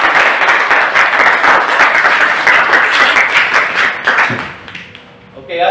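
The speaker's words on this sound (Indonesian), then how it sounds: "Kasih aplaus untuk" An audience applauding at a school academic session, dense steady clapping from a crowd that fades out near the end, with a brief voice and a clap as it dies away.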